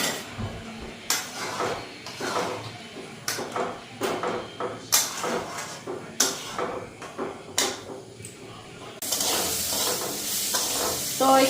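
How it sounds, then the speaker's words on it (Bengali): Bitter gourd and eggplant fry in a pan as a utensil scrapes and stirs in regular strokes, and a louder, steady sizzle takes over near the end. "তো এখানে তিতা করলা ভাজু একটু বেগুনও দিলাম তিতা করলার মধ্যে"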